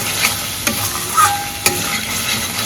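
Aloo dum spice masala sizzles in oil in a pan, a continuous bright crackling fry broken by a few sharp clicks of stirring.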